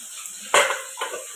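Freshly washed metal dishes are set down with a sharp clank followed by a softer knock, close by and brief, with no speech.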